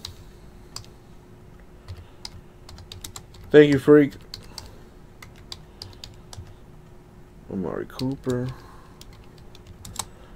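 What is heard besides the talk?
typing on a computer keyboard with one hand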